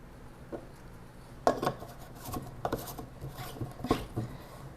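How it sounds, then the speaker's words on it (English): A plastic whisk ball drops into a shaker bottle holding an almond milk mix, giving a few sharp clattering knocks amid quieter handling rattles. "Drop the whisk ball in."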